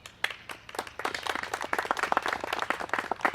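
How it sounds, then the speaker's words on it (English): Scattered clapping from a modest outdoor crowd at a home ownership groundbreaking ceremony, individual claps distinct and uneven at first, then thickening into brisk, irregular applause. "Y'all can clap for Ricardo."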